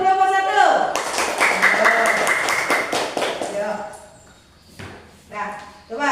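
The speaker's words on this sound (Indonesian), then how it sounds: "kasih tepuk tangannya dong untuk kelompok 1." Students in a classroom clap for a group, with a burst of scattered, uneven clapping that fades after a few seconds, while voices talk over and after it.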